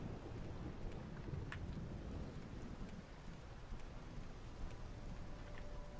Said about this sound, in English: It's rain. It's quite horrible.